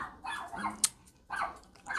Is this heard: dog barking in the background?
yes